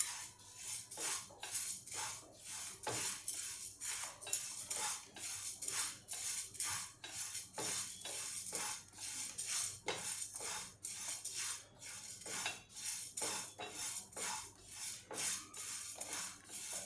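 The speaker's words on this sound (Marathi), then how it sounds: "अर्धा कप आपण तांदूळ भाजून घेतो" Half a cup of rice dry-roasting in a pan for Maharashtrian metkut, stirred steadily with a spoon: a continuous rasping scrape with quick rhythmic strokes, close and fairly soft, no voices.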